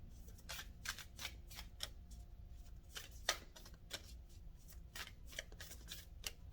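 A deck of tarot cards is shuffled by hand close up, with quick riffling bursts and soft flutters repeating in an irregular rhythm, plus one sharper snap midway, with no talking.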